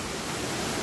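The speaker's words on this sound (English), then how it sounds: "So this little waterfall is right off of the side of the road though." A small roadside waterfall near the Halcott Mountain trailhead off Route 42 in the Catskills rushes with a steady, even broadband roar, close and loud, with no voices.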